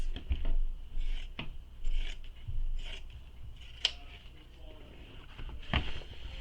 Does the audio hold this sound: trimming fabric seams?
yes